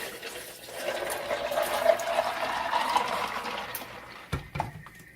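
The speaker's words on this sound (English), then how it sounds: "Now I'm just going to pour it into this jug." Hawaiian iced tea being poured from a container into a jug filled with ice, a steady liquid splashing and trickling at moderate volume, ending with a couple of clinks and knocks.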